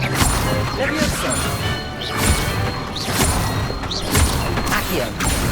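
Levioso spells cast during Hogwarts Legacy combat, with whooshing magic lost in a dense, steady wash of crashes, thuds and mechanical clatter. Voices call out between the impacts.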